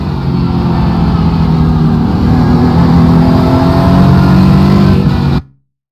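A race car engine drones loudly and steadily from inside the cockpit as the throttle is gently squeezed on mid-corner, a sustained rising hum that cuts off abruptly at the end.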